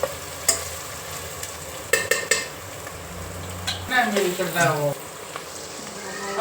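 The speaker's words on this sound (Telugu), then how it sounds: "ఆనియన్ ఈ రంగులో వేగాలి" Sliced onions fry and sizzle in a pan for a country chicken curry, with a steady crackle broken by sharp spoon-on-pan clinks and scraping stirs, plus a brief low hum partway through.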